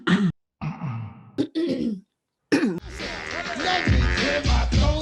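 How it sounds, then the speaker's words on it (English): Someone clears their throat several times in short, rough bursts separated by brief silences, then loud mixed voices and noise take over. "Let me clear my throat."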